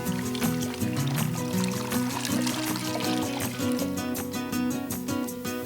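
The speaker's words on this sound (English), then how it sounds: "stir in 5½ cups of vegetable broth" Vegetable broth poured into a pot of softened onion and garlic for a butternut squash soup, a continuous, fairly loud splashing pour lasting several seconds with no talk.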